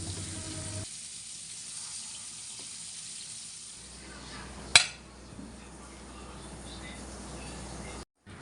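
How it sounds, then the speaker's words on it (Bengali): Eggplant slices fry in hot oil in a home kitchen, a faint, steady sizzle. It is interrupted by one sharp clatter partway through, then the frying continues quietly with no talking. "আমি এখন বেগুনগুলো ভেজে নেব"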